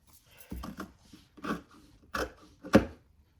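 Scissors cut out fabric for a tote bag in a few separate, crisp snips and crunching strokes, spaced unevenly with quiet gaps between them, close up and fairly soft.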